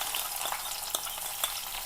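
Soft, steady sizzling of chopped onion, chilli and garlic frying in oil, with a few faint stirring clicks.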